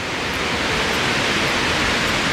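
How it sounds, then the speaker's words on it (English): Roaring waterfall at the Ardent cascade by frozen Lake Montriond, a loud, steady broadband rush of falling water filling the whole stretch without a break, close and constant. "we reach the waterfall"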